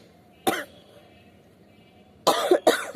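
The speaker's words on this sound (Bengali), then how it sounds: "কাশিটাও হয়েছে।" Three sharp coughs, one on its own and then a closer pair near the end, with quiet between them.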